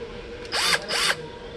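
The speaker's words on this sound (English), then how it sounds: "Got a screwdriver." A Hercules 12-volt cordless screwdriver gives two short whirring bursts, each rising and falling in pitch, close and clear against a quiet background.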